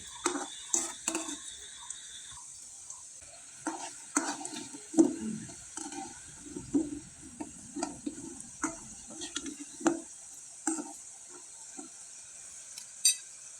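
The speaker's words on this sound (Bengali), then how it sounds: "এবার তেলে ভেজে নিতে হবে এই পিঠাগুলো" Pitha cakes deep-frying in oil, a soft bubbling fry under repeated clinks and scrapes of a utensil turning the cakes, close and intermittent, with no one talking.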